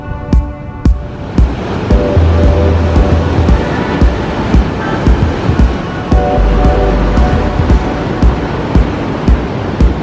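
Large ocean waves break and roll ashore on an Algarve beach in Portugal, heard from a boardwalk as a loud, continuous roar of surf with rhythmic crashes and steady wind noise.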